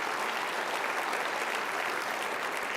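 Dense, steady audience applause at a climate advocacy conference session, a continuous wash of many hands clapping at even loudness throughout.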